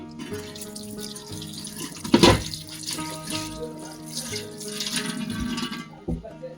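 Tap water splashes and runs while a kitchen gas stove is washed, with a sharp louder gush midway and steady trickling and rinsing around it, close and unaccompanied by speech.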